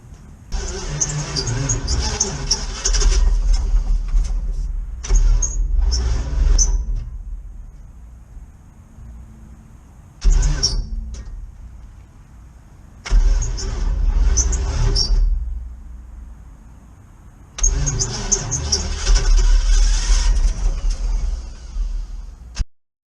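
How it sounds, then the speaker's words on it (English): A big block 454 Chevy airboat engine, started on weak batteries with starting fluid, cranks in several loud bursts of a few seconds each, with short pauses between them and no clear catch into a running idle. "We're just going to try it with starting fluid really quick."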